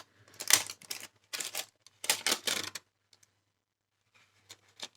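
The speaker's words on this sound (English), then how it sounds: "It's like it's got like a dust wrapper, which I'm carefully peeling back." A plastic dust wrapper is peeled back off a vintage 1930s paperback in close, crisp crinkling bursts separated by short silent gaps, then faint isolated crackles.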